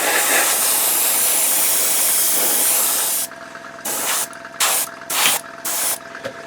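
An airbrush sprays pigment onto a 1/35 Hobbyboss Merkava Mk 3 LIC model tank: a loud, steady close hiss for about three seconds, then four or five short sputtering bursts.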